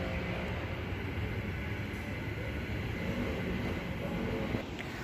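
A Port Kembla service train pulls into platform 2 at a windy Wollongong station, a moderate steady rumble of wheels blended with gusting wind, without speech.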